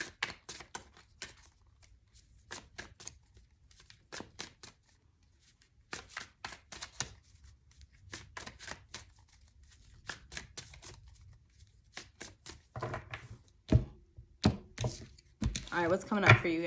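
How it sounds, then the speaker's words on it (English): Large tarot cards being shuffled by hand, giving repeated bursts of soft riffling and tapping with pauses between, fairly close and moderately loud, with some handling thumps near the end and no speech. "These cards are so big, I find it so hard to shuffle."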